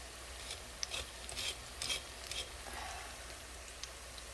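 Taro leaf rolls frying crisply in oil in a pan, steady soft sizzle with brief stirring scrapes, close and fairly quiet, with no talking.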